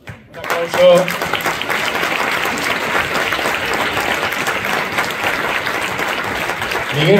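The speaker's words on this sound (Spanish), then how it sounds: "Un aplauso." A gala crowd honoring local peñas bursts into loud, dense applause that starts abruptly and holds strong and even for several seconds, filling the hall.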